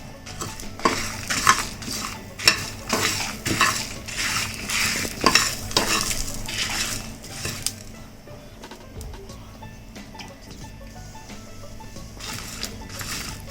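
Spices and a little coconut roasting in a pan over a low flame, a spoon scraping and stirring in quick repeated strokes against the metal, close and clear, with a faint sizzle beneath and quieter stirring toward the end.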